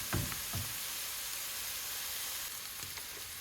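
Onions sizzle and fry in a pan for a cottage pie, a steady hiss with a few soft stirring knocks near the start and end.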